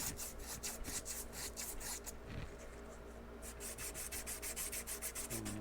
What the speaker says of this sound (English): we're going to sand off what I can here